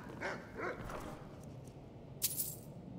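A dog barks a few times in a modded Skyrim Special Edition role-play game, moderately loud blasts early on over a dim background, with a sharp brief noise later.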